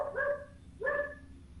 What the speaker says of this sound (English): What is my stupid dog barking at?